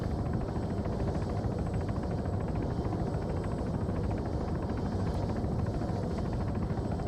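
A helicopter in the video game ArmA 3 drones steadily and loudly throughout, a dense continuous rotor and engine roar with no breaks or talk over it.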